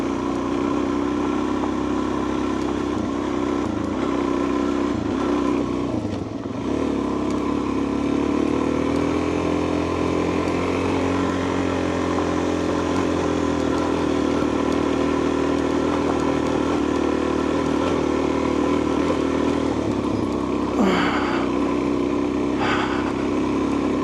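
A motorcycle ridden slowly by a beginner on a gravel road, its engine droning steadily and loudly throughout with slight rises and dips in pitch, accompanied by rumbling road and wind noise.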